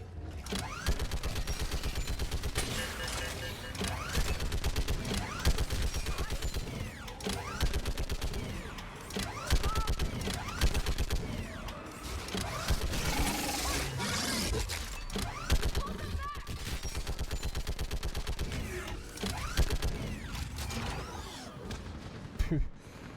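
Gunfire rattles through a video game battle, with bursts of rapid shots, clanking mechanical noises and shouted voices in the mix, sustained over a long stretch at moderate level.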